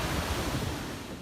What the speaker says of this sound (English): The waves are kicking up pretty good today